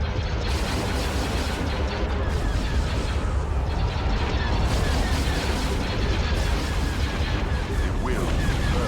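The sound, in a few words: missiles firing in a Star Wars video game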